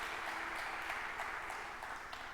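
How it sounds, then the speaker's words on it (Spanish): A church congregation claps hard together in a sustained wash of dense applause, rippling and even throughout, with no speech over it. "¿Cuántos le dan palmas fuertes por esto?"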